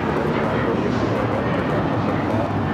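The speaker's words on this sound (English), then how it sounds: "United Airlines 2667 taking off to Washington Dulles on the 737-900ER." A United Airlines Boeing 737-900ER takes off at Los Angeles airport, a steady broadband jet roar heard from a distance without pause.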